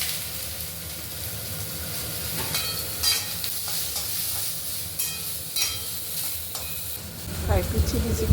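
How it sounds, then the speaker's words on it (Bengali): Onions and chopped vegetables frying in a pan for fried rice, giving a continuous hiss and sizzle with occasional stirring clatter, and a louder burst of sizzling near the end. "সবজিগুলো সব কেটে দিয়েছি, পেঁয়াজ এর সামনে দিয়ে দিচ্ছি।"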